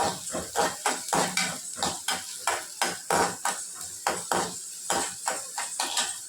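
Onions sautéing in a pan while a spoon stirs them, with a rapid, regular series of scraping clinks of metal on the pan over a soft sizzle, close up with no talking.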